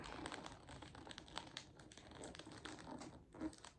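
Wrapping paper rustles and crinkles continuously as it is folded flat around a square gift box, close up and fairly quiet, with small crisp crackles throughout.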